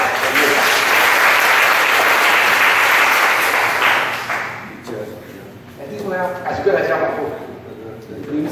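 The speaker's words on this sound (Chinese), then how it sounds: "请大家鼓掌欢迎姚嘉伟姚院长" Audience applause at a book launch panel discussion welcomes a speaker, a loud sustained wash of many hands clapping for about four seconds before fading out under murmurs and voices talking.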